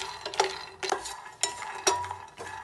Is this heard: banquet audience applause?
no